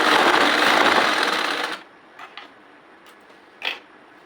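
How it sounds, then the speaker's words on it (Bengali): A sewing machine stitches maternity petticoat panels together from waist to hem, running in a loud, steady whir for just under two seconds before stopping, followed by a few faint clicks in near silence. "মিলিয়ে সেলাই করে নেব।"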